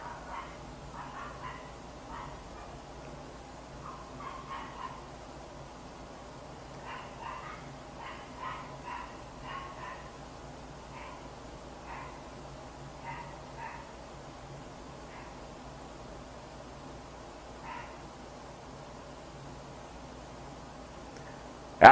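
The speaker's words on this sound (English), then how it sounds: "My dogs are barking." Several dogs bark intermittently in short clustered bursts over a steady low background hum, fairly distant and soft, with a few yips and whimpers mixed in, and no talking.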